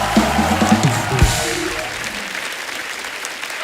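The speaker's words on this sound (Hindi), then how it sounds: "जोरदार तालियां हो जाए हमारे मेहमानों के लिए।" An audience claps loudly for guests arriving on a talk show stage, a dense burst of applause that gradually thins and fades.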